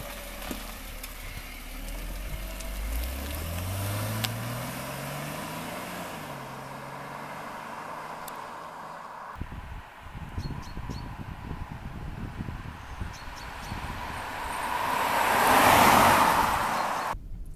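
A Jaguar XJ40 sedan cranking and starting, its engine note rising, then settling into a steady idle before pulling away, with road and engine noise swelling toward the end.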